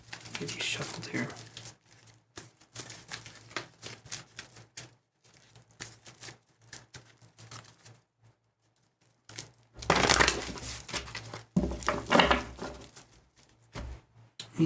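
Tarot cards are shuffled close by in short rustling, flicking bursts, with quieter gaps and a louder run of shuffling partway through.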